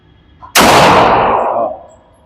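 A .40 handgun fires at close range during a pistol match, a loud, sharp blast whose ringing echo rolls on for about a second.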